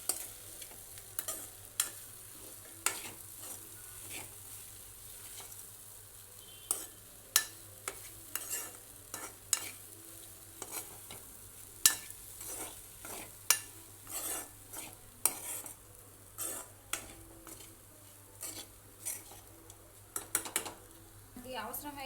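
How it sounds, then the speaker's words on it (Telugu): Soaked puffed rice mixture stirred in a pan, a spoon scraping and clinking in irregular bursts against the metal over a low steady hum, close and fairly quiet. "మరమరాలు అయితే వేసుకున్నాము. బాగా మిక్స్ చేసుకున్నాం."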